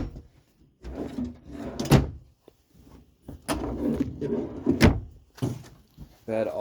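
Drawers of a three-drawer dresser in a 2016 Dutchmen Aerolite travel trailer slide open and shut in several sharp, close wooden knocks, spaced between stretches of quiet.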